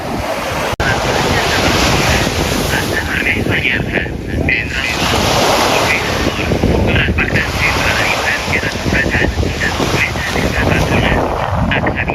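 Ocean waves surge and wash onto the sand at Nova Icaria Beach in Spain, a continuous loud roar with rolling swells and wind buffeting the microphone, with faint voices mixed into the background.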